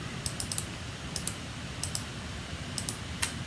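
A computer mouse gives a series of small, sharp, close clicks on a shuffle button, coming singly and in quick pairs at uneven intervals over a faint steady room hiss.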